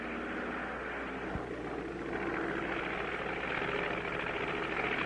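Cartoon airplane engine droning steadily in flight, a continuous broadband roar that holds level and grows slightly stronger partway through, with no voices over it.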